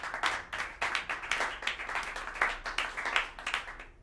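Audience at the Smalls jazz club applauds the upright bass player of a live band: sparse, uneven hand clapping from a small crowd, individual claps distinct and close, slowly tapering off.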